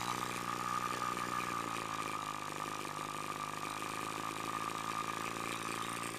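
Small Thunder Tiger G-61 model airplane engine idling low with a steady buzzing drone that stays constant throughout, close and fairly loud.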